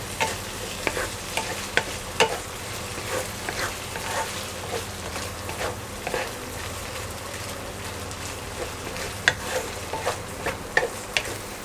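Minced pork and salted egg stir-fried in a pan: a steady dense sizzle runs throughout, broken by sharp clicks and scrapes of a spatula against the pan, with no voices.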